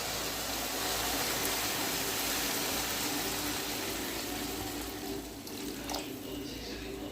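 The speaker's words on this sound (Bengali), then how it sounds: "এবারে জল দেবো" Water poured into a pot of slow-fried mutton curry, a steady broadband gush running close and continuous for several seconds with faint background clatter.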